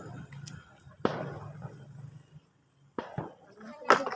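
Small firecrackers set off for Diwali, three sharp, loud cracks spaced a couple of seconds apart over a quiet, low background hum.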